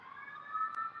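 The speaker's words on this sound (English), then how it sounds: "sorry about the sirens." An emergency vehicle siren wails faintly outside, a steady distant tone over a quiet indoor background with no talk.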